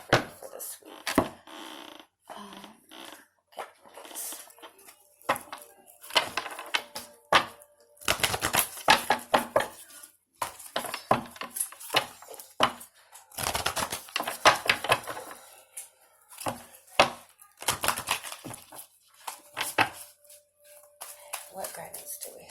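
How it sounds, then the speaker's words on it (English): Oracle cards are shuffled and handled during a weekly tarot reading, producing bursts of crisp riffling and slapping card sounds in uneven clusters, mixed with a talking voice throughout. "I'm going to pull some oracle cards for you"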